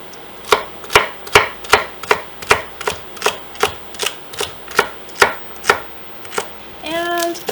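Celery being cut small with a knife on a board, about fifteen steady, evenly spaced chops close by, ending in a brief clattering ring.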